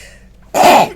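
A single short, sharp sneeze bursts out close and loud after a moment of near silence, breathy and explosive.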